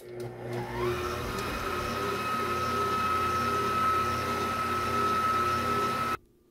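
An electric mixer whirs steadily through pineapple upside-down cake batter, revving up at the start, then holding a constant motor whine for several seconds before cutting off abruptly.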